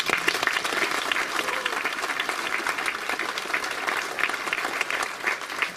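Hall applause at a community award ceremony in Hardenberg as a nominee is called forward, a steady, moderately loud wash of clapping throughout.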